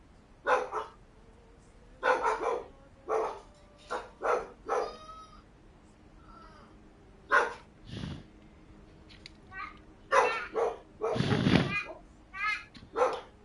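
A dog barks in short bursts scattered through a room, mixed with a person talking over it; the barks are moderately loud and irregular, some sharp and some longer.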